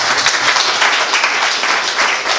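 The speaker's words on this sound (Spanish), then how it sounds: "Dale un fuerte aplauso a Cristo" Audience applause at a quinceañera celebration, dense and steady clapping throughout with no pauses, fairly loud and close.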